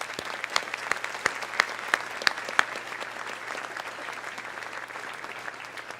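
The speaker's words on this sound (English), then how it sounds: "I would like to offer a round of applause for all the families and local businesses who have sponsored an award" An audience at a high school senior awards ceremony applauds for sponsoring families and local businesses, dense sustained clapping with a few sharp louder claps standing out near the start, gradually thinning toward the end.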